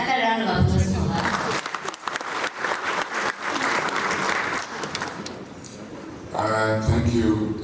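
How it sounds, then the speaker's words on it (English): An audience applauds at a national students' economics debate, a dense burst of clapping that swells in the middle, with a voice speaking briefly before and after it. "Another round of applause for her."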